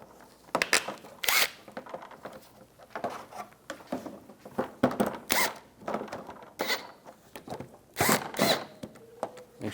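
Bolts tightened on the front bumper cover of a 2004–2009 Toyota Prius, heard as repeated bursts of ratcheting clicks and rattles with short pauses between, close and moderately loud.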